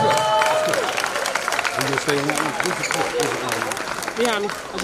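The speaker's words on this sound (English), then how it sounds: "Let's give her another round of applause." An audience at a scholarship awards event claps and cheers loudly and steadily, with voices calling out over the applause.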